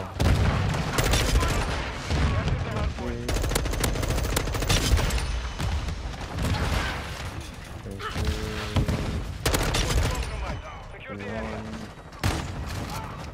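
Explosive rounds fired in a video game make a chaotic string of loud bangs and thuds for the whole stretch, with brief pauses, while a person talks over parts of the gunfire.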